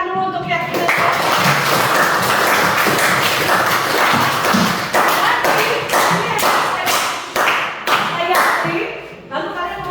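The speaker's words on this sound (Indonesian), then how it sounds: "Tepuk tangan dulu untuk keyakinan." A classroom of students claps hands loudly and close, dense at first and then breaking into sharp, separate claps that slow and fade, with voices calling out over it.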